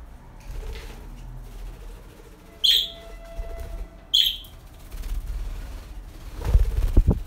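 Budgerigars kept as a pair indoors give two short, sharp chirps a second or so apart over a quiet room background, followed by some rustling and handling thumps at the end.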